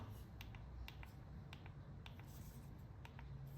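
Quiet, muffled clicks of iPhone 15 Pro Max buttons pressed through a silicone case, one after another at an irregular pace, soft and close with a faint background hiss.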